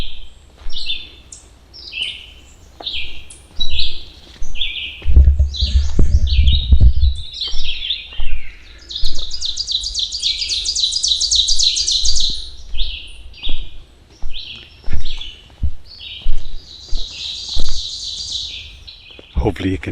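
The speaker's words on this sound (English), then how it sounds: "There's a chickadee following me and calling out." Birds chirp and call repeatedly in an Ontario woodland near Temiskaming Shores, with a chickadee among them; bright tweets come in quick bursts, near and fairly loud, alongside a longer trilling song and a brief low thump.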